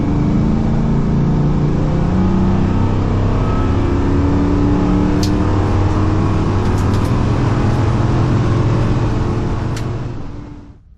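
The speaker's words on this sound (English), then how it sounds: "This big, high displacement, torque laden truck motor is really just the perfect fit for these guys." A big, high-displacement Godzilla truck engine swapped into an early Ford Bronco revs loudly and steadily up close, a deep continuous roar that fades out at the very end.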